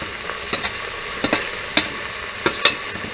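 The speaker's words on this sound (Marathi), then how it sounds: "तेलावर थोडी परतवून घ्यायची अगदी थोडी एक लाल टोमॅटो बारीक कापून घेतलेला तो घालायचा" Finely chopped red tomato sautéing in oil with ginger-garlic paste for a Khandeshi mutton curry, a continuous close sizzle broken by regular spatula scrapes and taps.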